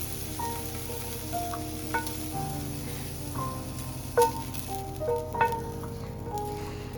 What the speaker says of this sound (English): It only took about 5 minutes or so to cook the sausage.